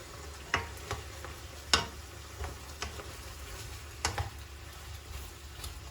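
Onions frying in a pan make a soft, continuous sizzle broken by irregular clicks and taps of a utensil stirring, some louder than others, with no talking.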